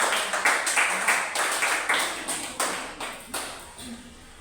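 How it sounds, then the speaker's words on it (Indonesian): A class group in a sociology lesson gets applause: a series of distinct claps in bursts, fairly close and loud, fading slightly toward the end. "Tepuk tangan lagi."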